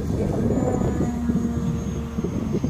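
Small RC model airplane engine on a 73-inch AJ Lazer 230, screaming at high RPM with an 8-pitch prop, a steady loud nasal drone with a sustained whine running throughout.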